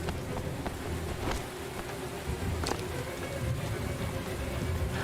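Steady heavy rain pours across a rooftop in a video game, a dense continuous wash with occasional sharper splashes and low rumbling underneath, even and unbroken throughout.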